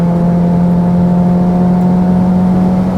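A Type-R swapped Honda Civic EK hatch engine drones steadily from inside the car, a strong even tone holding loud throughout with no talking.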